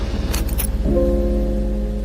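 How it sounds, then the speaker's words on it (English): A brief metallic jingle of car keys up close after a car engine switches off, over a steady low hum that gives way to a sustained tonal drone. "Keys jingling, deep exhale."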